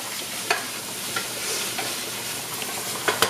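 Seasoning is stirred in a hot frying pan, with a soft continuous sizzle and a few light scrapes and clicks of the utensil against the pan, close and without talk.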